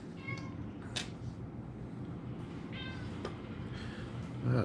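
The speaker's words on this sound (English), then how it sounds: "That's just my cat wanting attention." A house cat meows several times for attention. The meows are close and fairly clear over a steady low background hum, and no one speaks.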